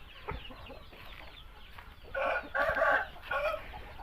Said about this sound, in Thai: เอาไก่มาตากไปข้างนอกเลยนะครับ มันจะได้ห่อนกันไปนะครับ